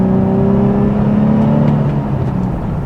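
Nissan 350Z Track Edition engine revving while driving, a loud steady drone with rising and falling engine tones, heard close from inside the car, with no talking.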